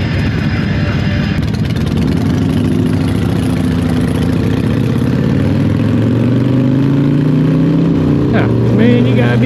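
Loud, close car engine idling with a rough, lumpy throb, its pitch dipping and shifting slightly near the end, with faint voices in the background.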